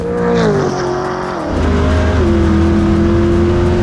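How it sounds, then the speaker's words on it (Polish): A BMW M3 E92 drift car with a 7.0-litre V8 at full throttle during a quarter-mile race, engine roaring loud and close as revs climb, dip at a shift, then climb again with a harsh, sustained tone. "auto, które jest przygotowane do ślizgania się, no cały czas się ślizga"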